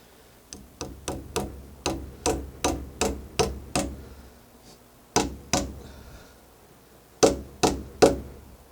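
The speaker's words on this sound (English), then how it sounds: "Put just a temporary nail in there." A hammer drives a temporary nail into timber in a trestle timber frame with a run of about a dozen sharp, evenly paced knocks, a short pause, then a few more firm blows, close and loud.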